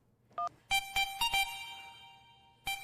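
A mobile phone ringtone for an incoming call in a Hindi TV comedy: a short beep, then a series of bright, loud melodic chimes, a pause, and the tune starting again.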